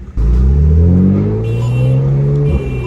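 A BMW M3 exhaust in Sport Plus mode revs hard and close, a deep loud roar that swells and holds before settling, with a crackle near the end.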